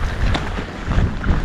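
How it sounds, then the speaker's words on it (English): Cold wind blowing off a glacier in Iceland rumbles and buffets close to the microphone in low gusts throughout, with no voices. "there is a little wind coming off the glacier, and it's pretty nippy and cold"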